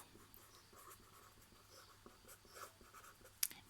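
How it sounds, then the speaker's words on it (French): A pen or pencil scratches a trigonometry formula onto paper by hand, soft, close and continuous scribbling strokes with a brief sharper tap near the end, no voices. "je vais écrire la formule SOHCAHTOA"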